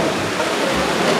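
A river current and waterfall at a campsite in Aso make a brief, steady rushing roar of flowing water, close and dense with no voices over it.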